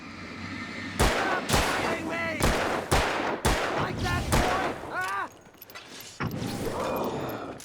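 Gunfire from Alan Wake, with a series of loud, sharp shots spaced about half a second apart and ringing, whining tails, followed by a quieter stretch with more distant noise.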